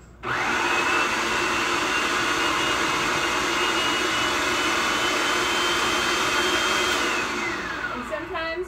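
Food processor blending a veggie burger mixture, a loud steady motor whine that starts abruptly, runs continuously for several seconds, then cuts off near the end.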